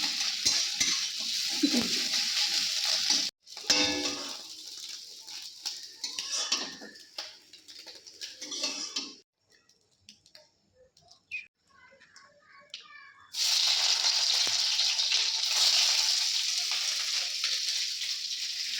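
An egg fries in a pan with a steady hissing sizzle, broken by clinks of utensils and stirring, a quieter stretch of scattered taps in the middle, then loud sizzling again.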